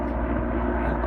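An aircraft droning steadily overhead, a dense, loud, continuous low rumble with no breaks, voices murmuring faintly beneath it.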